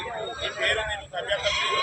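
Goats and sheep bleat among the busy crowd babble of a weekly livestock market in Siddipet, Telangana, with overlapping calls under steady voices.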